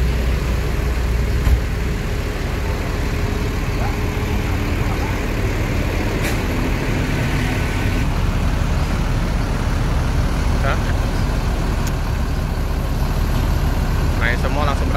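A Putra Remaja coach, a 32-seat Mercedes-Benz 1626 bus packed with passengers, idles and rumbles with a continuous low engine drone amid road and traffic noise, with occasional faint clatters.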